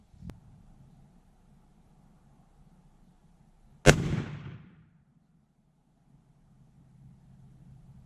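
One loud, close rifle shot rings out during a whitetail doe hunt, a sharp crack followed by a short echo that dies away over about a second, with quiet outdoor ambience before and after.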